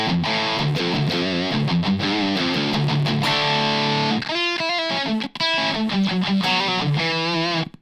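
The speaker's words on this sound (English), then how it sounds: "Another switch, here is my distortion." An Enya Nova Go Sonic guitar is played through a distortion effect, with loud, saturated chords and riffs ringing close up, cut by a brief pause before playing resumes.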